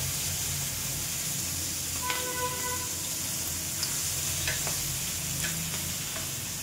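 Papad and fish frying in hot oil, a steady close sizzle with occasional clinks and scrapes of utensils, fairly quiet and unbroken.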